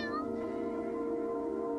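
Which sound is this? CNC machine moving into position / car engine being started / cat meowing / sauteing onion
cat meowing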